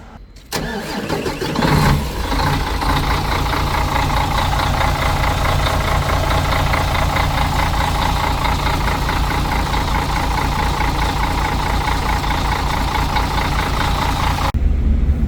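Cold start of a 2013 Mercedes Tourismo coach engine: the starter cranks, the diesel fires after about two seconds and settles into a loud, steady idle for over ten seconds before cutting off.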